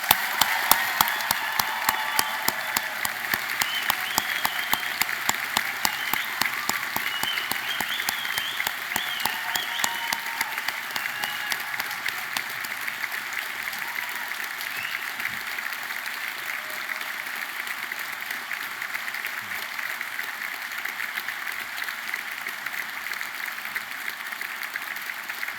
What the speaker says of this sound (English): let's give this amazing group of people one last huge round of applause for their achievements